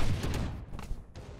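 Gunshots in Valorant, a quick cluster of sharp close shots in rapid succession over about a second, loud and dense, followed by a couple of fainter cracks.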